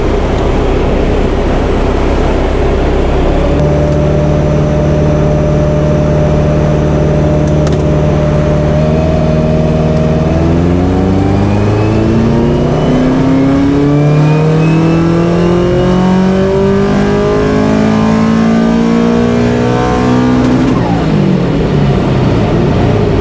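A heavily tuned bugeye Subaru Impreza STi of 500-plus horsepower, running up to 1.5 bar of boost, idles loudly, then revs up in long climbing sweeps and drops back sharply near the end, close and alone.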